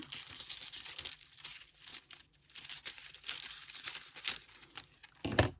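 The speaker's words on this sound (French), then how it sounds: "Je vais venir essayer de découper un morceau de" A piece of aluminium foil crinkles and rustles while being cut, a close, quiet run of crackling bursts with a sharper crunch at the end.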